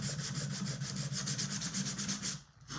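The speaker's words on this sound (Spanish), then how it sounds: "voy a coger una lija más fuerte y voy a probar" Coarse sandpaper rubs back and forth across a brass umbrella stand in quick, even strokes, a close, steady scratchy rasp that pauses briefly near the end before resuming.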